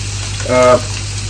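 Jackfruit and spices frying in a pan, giving a steady close sizzle with a brief tonal sound rising out of it partway through.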